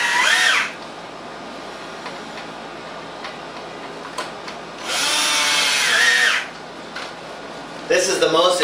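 A concept ozone generator driven by a 1.5 horsepower blower roars in loud bursts, with a steady running hiss between them and a voice speaking over parts of it.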